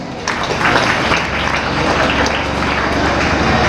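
A school annual day audience claps loudly and steadily, a dense unbroken wash of applause that swells in just after the start and holds for a few seconds.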